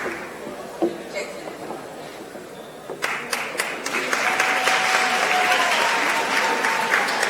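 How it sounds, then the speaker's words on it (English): Applause from a live audience for the winner of a Science Slam innovation competition, starting as scattered claps and swelling after a few seconds into loud, sustained clapping from a crowd. "Please, a round of applause to her"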